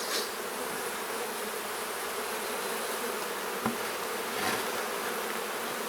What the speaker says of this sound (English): We'll set this down here and let these bees defend themselves.